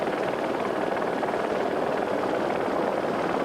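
Eurosport filming helicopter flying over the Egyptian desert during the 1993 Pharaohs Rally Raid, a steady loud rotor and engine roar with a constant pulsing texture throughout.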